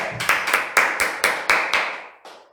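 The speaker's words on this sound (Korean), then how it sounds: "우리 주님께 감사의 박수 드리겠습니다" Church congregation clapping in thanks to the Lord after a prayer, a few slow loud unison claps spaced evenly, each ringing out briefly in the hall, with one last softer clap.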